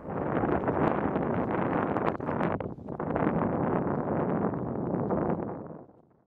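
Cold continental wind gusts outdoors in winter in Poland at Auschwitz, roaring hard and steadily across the microphone in a loud, buffeting rush with a short lull before it fades out at the end.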